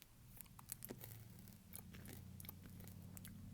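Someone chews Skittles candy or gum close to the ear, producing soft, wet crunches and clicks in an uneven rhythm over a faint low background hum.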